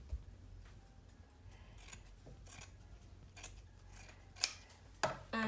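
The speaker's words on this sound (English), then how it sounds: "you're just going to cut the excess fabric" Scissors snip away excess fabric after straight-stitch sewing on a small turban headband with an elastic back, a few quiet, scattered cuts and rasps close by with no talking.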